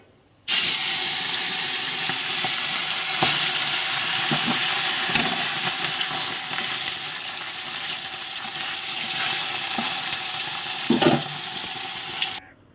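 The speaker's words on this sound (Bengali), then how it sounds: "মাছগুলো ভেজেছি, পুরো কড়া করে ভাজিনি, মোটামুটি ভেজেছি" Fesa fish frying in hot oil in a pan gives a steady, dense sizzle that runs unbroken for about twelve seconds, with a few louder pops and spatters near the end and no talking.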